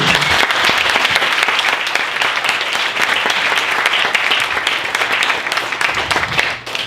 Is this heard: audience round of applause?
yes